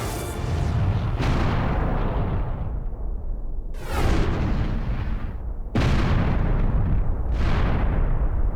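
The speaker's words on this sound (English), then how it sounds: "Incoming fire from the unknown vessel." Spaceship weapon fire from the video game Star Ocean: The Last Hope: three or four loud, heavy blasts with long rumbling tails, evenly spaced and heard alone with no talk.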